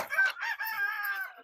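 A chicken calls near chicken tractors on a pasture farm, a single brief, close, drawn-out squawk heard clearly on its own.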